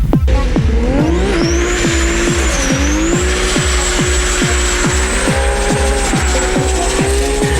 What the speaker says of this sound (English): A 9-second GTR in wet weather aren't normally the best combination, but Dominic still put the car through its p